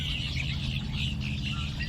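Red-winged blackbirds and grackles call from wetland reeds at dusk, a dense, continuous wash of chirps and trills from a large roosting flock, steady and fairly loud with a low rumble beneath.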